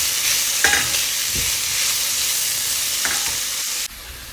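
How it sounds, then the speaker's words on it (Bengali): Salt and turmeric are stirred into food frying in a pan, with steady sizzling and a few scraping, clinking strokes of a utensil close by, with no voices. "লবণ আর হলুদটা ভালো করে মিশিয়ে নেবো"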